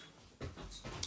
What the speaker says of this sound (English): my dog wants to come in